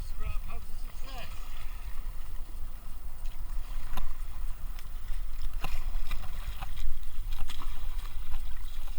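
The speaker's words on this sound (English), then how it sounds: "I'm here with my mate Mark, kayaking along in the sea" A kayak paddles along the sea off Cornwall, with continuous splashing and lapping water, wind rumble and occasional paddle knocks, and people talking over it.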